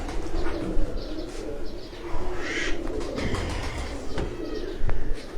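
Pigeons on a rooftop loft cooing, soft repeated throaty calls close by, with rustling and light background noise between them.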